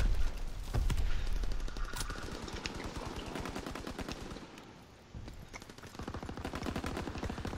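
A submachine gun in Call of Duty WW2 fires long, fast automatic bursts, loud and continuous, with one brief pause partway through before the rattling resumes.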